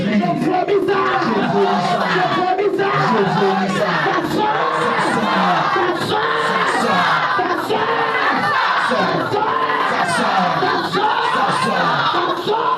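A church congregation at a deliverance service cheers, shouts and prays aloud all at once, a dense, loud wall of overlapping voices that never lets up.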